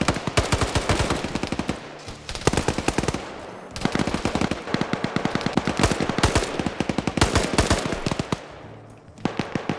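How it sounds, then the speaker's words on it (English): Rapid automatic gunfire in a competitive shooter game, with bursts of loud, closely spaced shots rattling almost continuously, broken by a couple of short pauses. "You can't hear it over the gunfire!"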